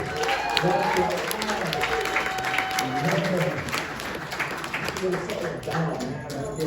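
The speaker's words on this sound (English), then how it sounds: "Give yourselves a round of applause" Crowd at an intertribal community house event in Oakland gives itself a round of applause, sustained clapping mixed with cheers and voices, steady throughout with a performer's voice nearby.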